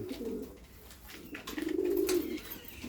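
Pigeons cooing close by, two soft rolling coos with a pause between, the second longer and louder, with faint chirps above.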